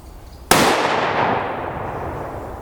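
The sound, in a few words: rifle shot of SS195 ammunition from 22-inch barrel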